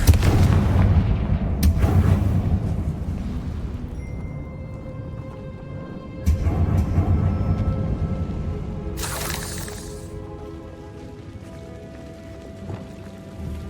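A Confringo fire spell explodes in the video game Hogwarts Legacy. Loud booming blasts hit at the start and again midway, each trailing into crackling, rumbling debris and a ringing tail, with a sharp burst near the end.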